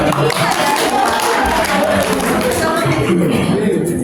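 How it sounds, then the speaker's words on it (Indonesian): Applause from a school audience at an Islamic elementary school event fills the whole stretch, a dense, steady wash of clapping mixed with crowd chatter and voices. "Tepuk tangan untuk kita semua."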